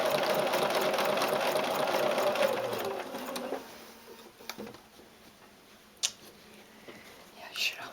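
A sewing machine stitches fabric face masks, a loud steady mechanical whir for the first three seconds, then falls quiet apart from a few short knocks and handling sounds.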